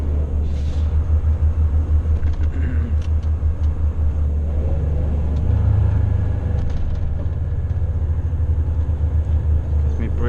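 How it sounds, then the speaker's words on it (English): A Volvo FH 440 semi-trailer truck brakes, heard from the cab as a loud steady low rumble with a pulsing engine drone and faint background noises. "Got me braking there now."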